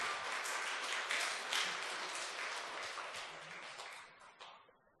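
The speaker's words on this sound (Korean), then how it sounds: "박수로 축하해 주시기 바랍니다" Church congregation applauds a child's award at a Sunday worship service, a sustained wash of clapping that gradually fades toward the end, moderately faint.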